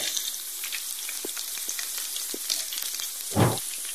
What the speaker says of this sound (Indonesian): Batagor bentuk bakso gorengnya udah mulai matang ya, kelihatan dari kuning keemasan dan mengapung dengan sempurna.